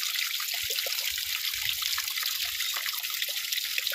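A steady, unbroken rush of water pouring from a borewell in Gulbarga district, heard close and alone with faint low knocks beneath the constant hiss.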